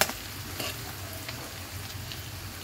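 Beef tripe frying for bhuri bhaji in a home kitchen pan, a steady soft sizzle with faint stirring scrapes and a few small clicks, moderately close and with no one talking.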